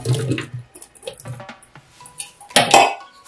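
Water poured into a large blender jar holding cut fruit for a smoothie, a brief splashing rush after a few clinks of the jar and utensils in a kitchen.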